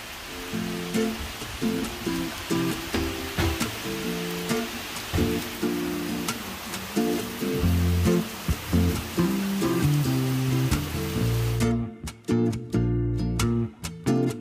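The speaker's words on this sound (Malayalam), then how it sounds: "മഴ തുടങ്ങി." Steady rain falls on a morning with a dark, cloud-heavy sky, a dense, even wash of drops, heard close up. Irregular tapping and knocking, probably drops striking nearby surfaces, run through it, and it cuts abruptly to near-quiet knocks near the end.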